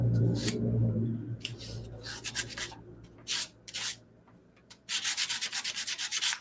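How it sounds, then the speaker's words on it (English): Close, light back-and-forth sanding strokes rasp against chalk paint, ending in a quick steady run of rhythmic rubs. "I am very lightly sanding this."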